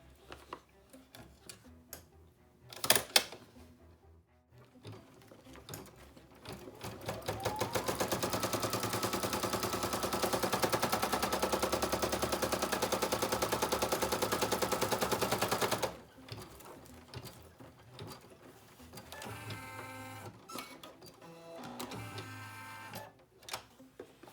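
A home embroidery sewing machine stitches an in-the-hoop mini bag purse, its needle hammering in a steady, loud mechanical buzz that runs for about eight seconds, framed by quieter clicks and handling noises before and after.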